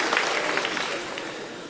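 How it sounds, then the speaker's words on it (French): An audience applauds at a French stand-up comedy show, a dense burst of clapping that starts loud and slowly fades. "Très marrant de voir comme les applaudissements sont genrés, là."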